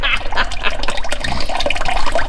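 Water splashing and gurgling as it drains out of a stuck Hemi engine, a loud, close, continuous liquid pouring with bubbling spurts.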